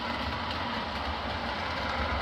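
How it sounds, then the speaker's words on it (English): An O scale model commuter train runs along a layout, giving a steady, even rumble with a constant wheel and motor whir that holds at moderate level throughout, with no voices. "And this is just a local commuter train."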